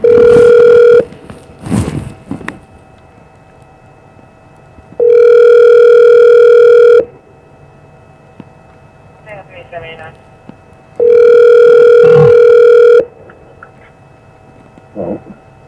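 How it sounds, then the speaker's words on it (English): An outgoing telephone call ringing, loud two-second ringback tones repeating every six seconds, with faint background noises between rings. "let me know if you hear the phone ring"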